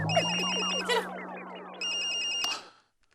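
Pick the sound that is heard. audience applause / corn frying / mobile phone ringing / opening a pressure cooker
mobile phone ringing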